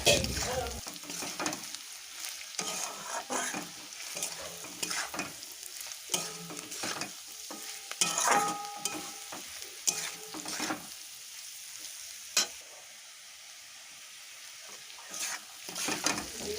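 Turmeric, chili powder and salt sauté in a pan for a river mourala fish curry, with soft sizzling, intermittent scraping stirs and spoon clinks against the metal, close and fairly quiet.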